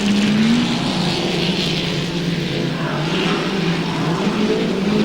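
Vintage midget speedcars race on a dirt track at a speedway exhibition ground, a steady loud engine drone with a rising and falling pitch as the cars sweep around, continuous throughout with no talking.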